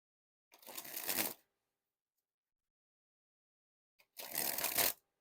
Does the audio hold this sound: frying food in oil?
no